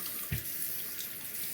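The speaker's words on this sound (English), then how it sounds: "Just gonna rinse the stone underwater." A Shapton 1500 sharpening stone is rinsed under a running tap, a steady faint hiss of flowing water with a single soft knock near the start.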